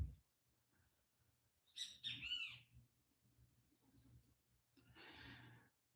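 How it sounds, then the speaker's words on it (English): Kiskadee birds call outdoors in Bermuda, two separate bursts of harsh, squawky calls rising over a quiet background with a faint low hum. "I hate those birds. They're called kiskadees."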